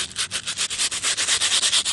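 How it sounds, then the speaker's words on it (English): Steady rhythmic scratching of sandpaper rubbed back and forth over wood, close and continuous with quick repeated strokes. "you just start sanding all around"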